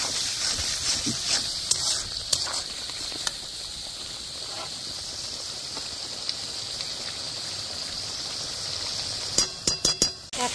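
Poppy seed paste being stirred into a Bengali-style vegetarian paneer curry: a steady wet hiss with soft scraping, and a few sharp clinks of a spoon against the pan that cluster near the end.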